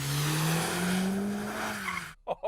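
A Mercedes-AMG A45 S drifts sideways on a test track, its tires letting out a long, loud wavering squeal under the engine's drone before cutting off into near silence.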